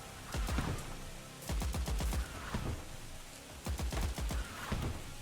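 Volleys of soldiers' rifle and machine gunfire in the video game Rattenreich, several clustered bursts of sharp shots with brief pauses between, fairly distant and moderately loud, no voices.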